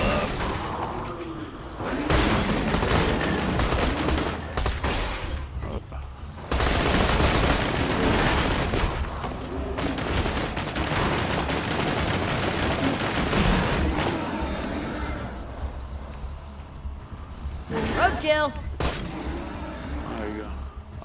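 Bursts of rapid gunfire and heavy shots from the Borderlands 2 video game fill nearly the whole stretch, loud and dense, with players talking over the shooting.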